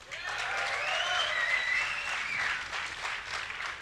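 Audience at a DreamHack Summer StarCraft match breaks into steady, dense applause and cheering from a large crowd, sustained evenly for several seconds.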